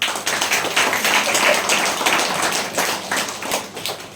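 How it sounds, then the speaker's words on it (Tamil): A group claps hands at a church community Christmas celebration, a loud run of sharp, irregular claps close by that thins toward the end. "கைதட்டுங்க"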